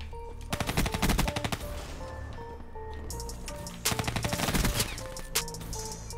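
Rapid automatic gunfire in the shooter game Call of Duty Black Ops 3, with dense bursts of shots in two loud clusters separated by sparser firing and faint game effects.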